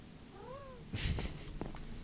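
A single short, soft meow from a cat, followed by faint rustling and bumping nearby, quiet and close.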